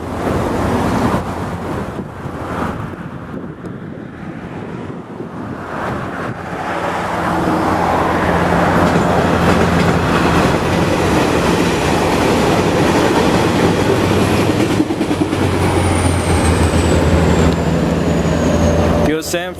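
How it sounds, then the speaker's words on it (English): Southbound passenger train 509 passes in the Bay Area, a loud rushing roar with clickety-clack of wheels over rail joints and wind buffeting the microphone, building from quieter passage to a sustained close pass. "South Train 509 now."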